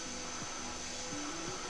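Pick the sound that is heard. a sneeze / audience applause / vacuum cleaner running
vacuum cleaner running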